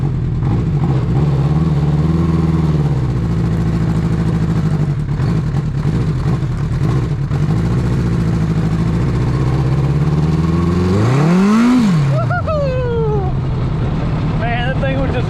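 A custom lawnmower trike built around a 1980 Honda CB900 motorcycle engine, long left sitting, runs steadily on a ride with a loud, close engine drone that swells into one sharp rev near the end.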